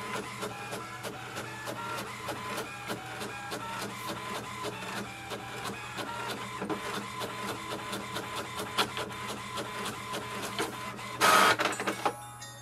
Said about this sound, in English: So once the printer prints it,